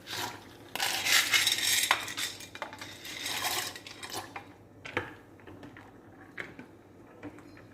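Metal clanks and rattles of a lid being handled and set down on a pot of boiling macaroni, several sharp clinks followed by quieter scattered taps.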